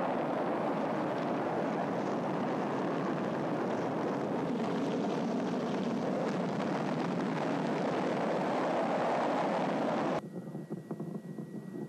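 Apollo 11 rocket engines ignite at launch with a broad, rumbling roar that holds steady for about ten seconds before it cuts off abruptly to a much quieter background.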